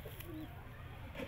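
Soft, low pigeon coos close by at a pigeon sale in Bareilly, a couple of brief murmuring calls against a quiet background.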